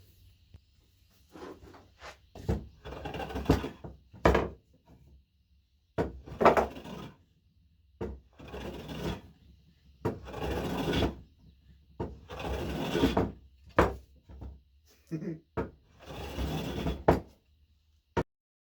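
A hand plane shaving wood on a guitar neck in a workshop, giving repeated scraping strokes in bursts, each a second or two long, separated by short pauses.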